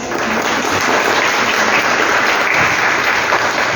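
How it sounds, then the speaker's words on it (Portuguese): A loud, dense burst of audience applause greets author Myriam Scotti at a World Book Day literary event, steady clapping close by with no talk over it. "Eu peço uma salva de palmas para a Miriam Scott"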